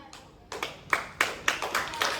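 Scattered hand claps from an audience at an Engineers Day celebration of the Engineers Club in Dwarka, about six sharp claps at a steady half-second rhythm, close and moderately loud.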